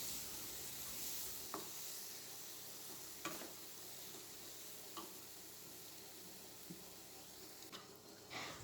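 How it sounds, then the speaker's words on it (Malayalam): Egg curry masala sizzles quietly in a pan as tomato puree is stirred in, a steady low frying hiss with occasional spoon scrapes and taps spaced a second or two apart, nobody talking. "തക്കാളി പൾപ്പാക്കിയത് അതും ചേർത്ത് കൊടുത്തിട്ട് നല്ലതുപോലെ ഒന്ന് കൂട്ടി യോജിപ്പിക്കാം"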